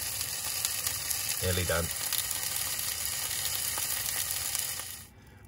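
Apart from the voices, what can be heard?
sausages from the co-op sizzling while frying in a pan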